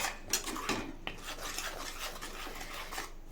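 Palak paneer curry with its spices being stirred in a pan, giving a steady close scraping and clinking of a utensil against the metal, with a few sharper knocks and no talking.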